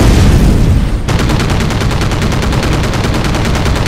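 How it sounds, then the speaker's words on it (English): Rapid naval gunfire rattles through a Battlestations: Pacific sea battle, a dense rhythmic barrage of repeated shots that starts after a brief roar and keeps firing loud and steady to the end. "Enemy fire!"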